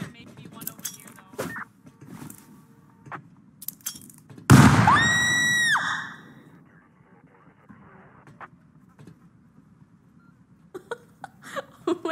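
A grenade detonates in the survival video game Rust, one loud sudden blast with a ringing tail lasting over a second, amid quiet game noises and brief talk.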